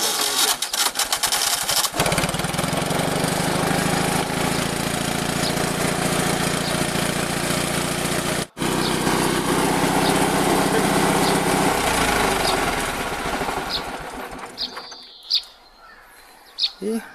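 A BMW micro tractor's small engine starts up and idles with a loud, steady, buzzing drone up close, then cuts out near the end, with birds chirping in the background.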